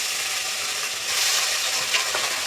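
Cumin seeds sizzling in hot oil as tempering for a bitter fenugreek greens bhaji in a village kitchen, a steady close hiss that swells slightly midway with faint crackles.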